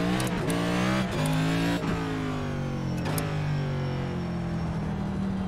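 A NASCAR race car engine roars steadily through a lap of the Los Angeles Coliseum circuit in a video game, loud and close, with its pitch dropping and climbing again as the car brakes and accelerates.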